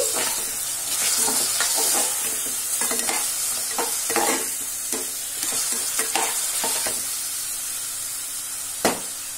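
Three finely chopped tomatoes stirred into a hot pan for tomato upma, giving a steady close sizzle broken by repeated spoon scrapes and one sharp knock near the end.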